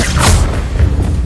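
A Confringo spell explosion in the game Hogwarts Legacy, a loud, close, booming blast with a rushing whoosh, over about a second.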